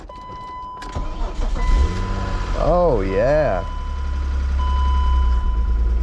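A BMW E36 M3 engine that had been sitting cranks and catches, then settles into a steady idle rumble close by, with someone speaking briefly over it.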